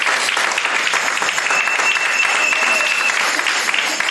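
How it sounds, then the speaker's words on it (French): Church congregation breaks into sustained applause and cheering after a sermon, a dense, steady clapping that fills the whole stretch at close range, with faint voices mixed in. "Vous pouvez vous acclamer."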